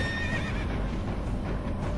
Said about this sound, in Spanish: Un súbito relincho la saca del abismo.